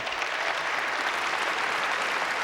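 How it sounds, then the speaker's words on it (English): At a magic awards show, an audience applauds a volunteer from the crowd with a thick, continuous roar of many hands clapping, steady and loud throughout with no voices standing out. "Please give this gentleman a short round of applause."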